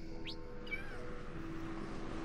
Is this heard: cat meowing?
yes